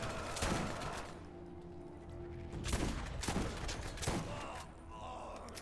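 Shotgun gunfire in Borderlands, several sharp, spaced blasts ringing out over steady game background noise, fairly faint overall.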